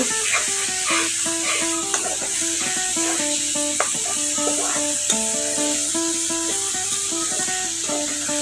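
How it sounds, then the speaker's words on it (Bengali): Turmeric, coriander and chili powder stirred and fried in a pan for a pabda fish curry with olives, a low steady sizzle with occasional light scrapes beneath a melodic background tune. "হলুদ ধনে মরিচ এগুলো দিয়ে দিতেছি দিয়ে এগুলো নাড়াচাড়া দিয়ে কিছুক্ষণ কষিয়ে নেব"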